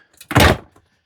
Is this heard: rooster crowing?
no